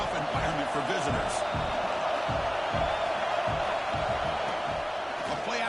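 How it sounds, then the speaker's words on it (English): A stadium crowd at a Nebraska football game roars in a dense, continuous wall of sound, with rhythmic thumps running through it and a commentator talking over it. "Listen to the crowd energy here in the early going."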